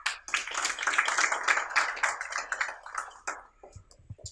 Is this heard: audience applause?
yes